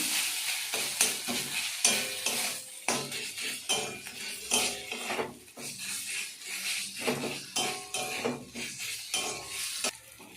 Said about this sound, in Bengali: জিরে দিচ্ছি, দিয়ে নেড়ে নিচ্ছি।